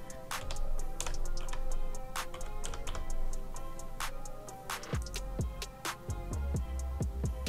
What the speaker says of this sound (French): j'ai fait une sorte de croix sur mon clavier numérique